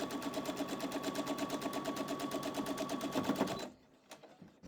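A sewing machine stitching quilt block pieces together for an Ohio Star block, heard as a fast, even mechanical clatter running up close for several seconds before stopping abruptly, followed by a few faint clicks.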